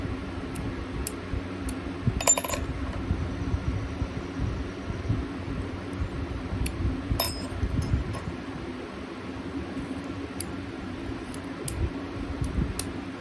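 Homemade wind chimes tinkle in scattered, bright clinks over the steady whoosh of a nearby electric fan, some strikes clustering into brief jangles.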